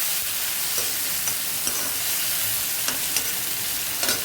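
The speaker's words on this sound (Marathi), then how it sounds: "आता आपण त्याच्यामध्ये हे टमाटर टाकून घेऊया. टमाटरला चांगलं परतून देऊया." Tomatoes sizzle in a pan with browned onion as they are sautéed, a steady hiss of frying broken by occasional soft stirring scrapes, close and alone.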